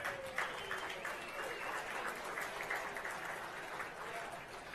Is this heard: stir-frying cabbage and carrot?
no